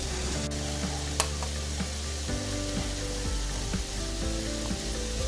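Snow peas sizzling in a hot pan while being stir-fried for chicken lo mein, a steady frying hiss with scraping and clinking from the utensil and one sharp tap partway through.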